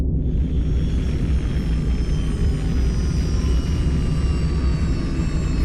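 A fixed-wing aircraft comes in to land with a steady, loud engine roar and whine that holds evenly throughout, with no talk over it.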